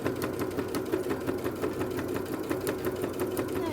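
A sewing machine stitches fabric for a patchwork placemat, a steady close mechanical whir with a fast, even pulse of needle strokes, running continuously without pause or talk.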